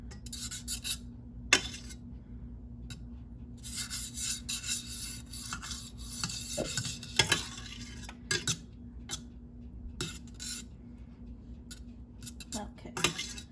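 Butter and oil sizzle in a hot pan ahead of marinated chuck steaks, a steady crackling hiss broken by clinks and scrapes of a utensil against the pan.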